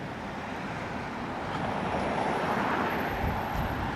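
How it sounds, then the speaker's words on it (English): Road traffic queuing at a retail park in Wednesbury gives a steady low rumble of idling and slowly moving cars, moderately distant, swelling slightly midway, with no talk. "And the traffic here is now holding up the traffic, all the cars behind, because they want to turn right into here."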